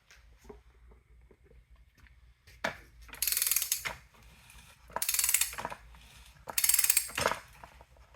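A Ridgid 65-R manual pipe threader ratchets while cutting threads on pipe. Three loud bursts of rapid ratcheting clicks recur every couple of seconds, with quieter mechanical handling between them.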